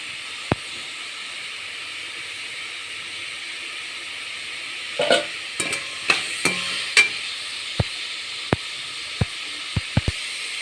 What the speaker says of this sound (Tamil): காளான் ஓரளவு பொன்னிறமாக வதங்கி விட்டது இனிமேல் இதில் மசாலா இஞ்சி பூண்டு பேஸ்ட்